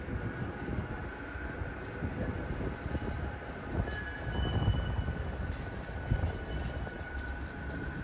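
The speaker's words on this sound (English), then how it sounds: "Next tram departing." A tram pulls out toward East Didsbury at a Rochdale stop, a steady rumble of rail wheels with a faint high whine that runs the whole time, moderately loud from the platform, with no talking.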